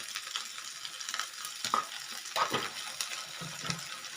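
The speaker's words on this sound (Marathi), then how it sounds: "आता आपण एकदा चांगलं मिक्स करून घेऊयात" Okra curry with kokum is stirred in a pan: a soft, continuous sizzle with scraping and a few wet clinks of the spoon, close and moderately loud, with no talk.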